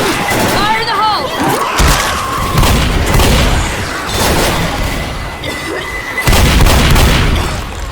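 A pipe bomb detonates in Left 4 Dead, and heavy booms and crashing debris burst amid chaotic gunfire and shouting, loud and close throughout.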